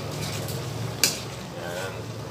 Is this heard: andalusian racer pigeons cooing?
no